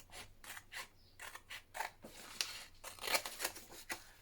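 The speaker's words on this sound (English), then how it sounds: "So I'm going to trim that up there like that, so we can fussy cut some flowers" Scissors snip repeatedly through paper while trimming around printed flowers for fussy cutting, a quick irregular series of close, crisp cuts with faint crinkling and no talk.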